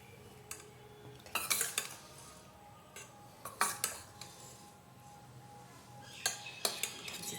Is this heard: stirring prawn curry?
yes